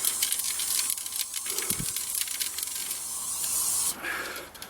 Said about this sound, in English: So you need to spray it down, let it go off for a little bit